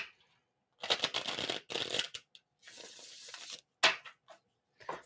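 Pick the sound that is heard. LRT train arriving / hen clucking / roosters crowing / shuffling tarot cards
shuffling tarot cards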